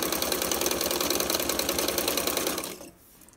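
A sewing machine runs steadily while stitching quilt pieces, its rapid even chatter continuing close and loud for a few seconds before stopping abruptly, leaving a quiet room.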